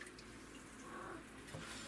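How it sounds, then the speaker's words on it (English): Warm water is poured steadily into a bread machine pan, producing a faint, continuous trickling wash close by with no talk over it. "pour my warm water down on inside"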